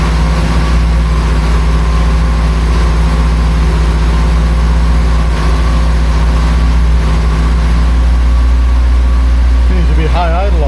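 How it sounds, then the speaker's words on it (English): A 1976 BMW 2002 with a carbureted engine and a push-button start runs at high idle, a loud, steady, low drone close by, with a voice briefly heard near the end. "Seems to be high idle, all right."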